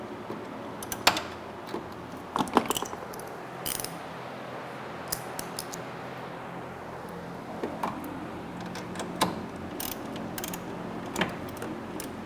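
Ratchet wrench tightening the strut tower brace on a 2015 F80 BMW M3, giving a close series of sharp clicking pawl bursts and metallic taps, irregularly spaced with quieter mechanical handling between, no talking.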